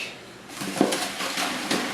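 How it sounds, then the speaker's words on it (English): Boiled vegetables for salsa or guacamole are strained from a metal pot, giving soft clanks and clatters of cookware with a brief sharp knock, close and alone under a light hiss of running liquid. "They've reached their boiling point, so I'm going to strain them real quick."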